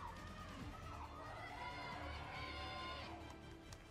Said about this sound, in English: I love the sounds of the crowd